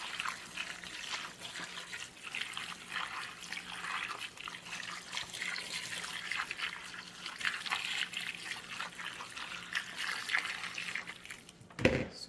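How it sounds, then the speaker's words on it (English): Boiled water pours steadily into a bowl of chicken feet with lemon juice, a soft continuous splashing trickle, faint and close, ending with a brief clatter. "put in my boiled water."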